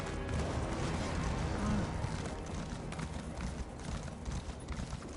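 Horse hooves in The Elder Scrolls Online, a continuous run of galloping clip-clops under dense game ambience, moderately loud and steady.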